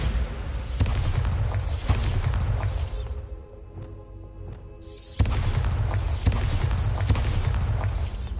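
A Bombarda spell blast in the video game Hogwarts Legacy booms loud and broad, dropping to a brief quieter lull before another heavy rumbling burst surges back in.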